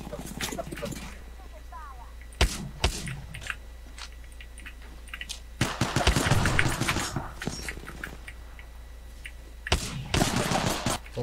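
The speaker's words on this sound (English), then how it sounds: "Oh, alright, I have a shotgun." Sharp shotgun blasts from a video game fire in scattered bursts through game sound, mixed with a voice talking over the action.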